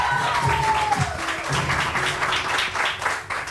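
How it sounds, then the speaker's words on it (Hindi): Continuous audience applause fills a morning talk-show studio, a dense mid-level wash of many hands clapping over faint music and voices. "पालवर्षा के लिए भी बहुत सारी तालियां।"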